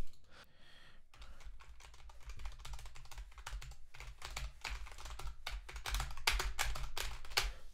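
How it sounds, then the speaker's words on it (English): Rapid, uneven tapping on a computer keyboard as a random string is mashed out, dense clicks and key thumps close by, growing busier toward the end with no talking. "Big old keyboard mash."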